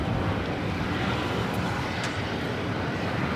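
A Volaris Airbus A320neo takes off at LAX, its engines giving a steady, loud broadband roar with no pauses and no voices over it.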